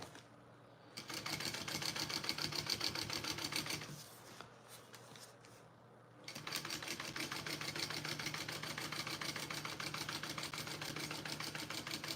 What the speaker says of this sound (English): and then top stitch again